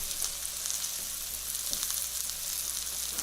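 Taco filling sizzles and fries steadily in a pan, a continuous hiss with faint crackles throughout.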